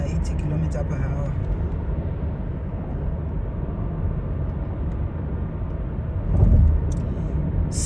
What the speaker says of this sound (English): I'm not driving more than 80 kilometers per hour.